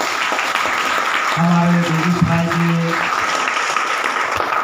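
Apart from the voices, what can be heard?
audience applause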